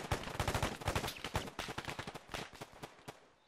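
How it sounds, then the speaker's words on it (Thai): Dense video game gunfire rattles in rapid bursts of overlapping shots at a steady, fairly loud level. The shooting thins slightly toward the end. "เหมือนเสียงปืนเริ่มจะแผ่วลงแล้วจากเมื่อกี"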